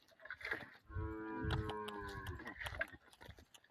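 A cow moos loudly in one long, drawn-out low call, with a few short background noises around it.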